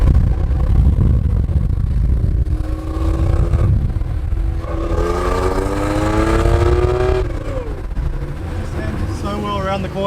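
A 1974 Porsche 911S engine rumbles low and close, then rises through a rising rev as the car accelerates on a drive, the pitch climbing in sweeps before easing and building again, with some talk over it.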